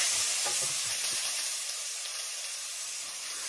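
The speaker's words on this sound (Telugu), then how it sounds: "గోల్డెన్ బ్రౌన్ వచ్చేంత వరకు ఫ్రై చేసుకోండి" Onion slices, cinnamon, star anise, cloves, bay leaves and green chilies frying in a pan with a steady, bright hissing sizzle and a few soft stirring clinks at the start.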